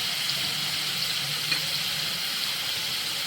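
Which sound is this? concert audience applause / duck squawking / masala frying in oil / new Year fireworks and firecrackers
masala frying in oil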